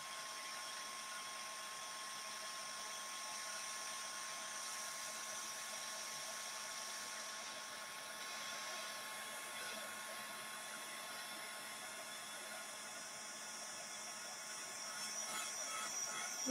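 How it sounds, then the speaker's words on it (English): A heat gun runs continuously while a brocante shadow box craft project is being worked on, giving a steady, even whirring blow that holds at the same level throughout with no talking. "the heat gun is now making me hot and sticky"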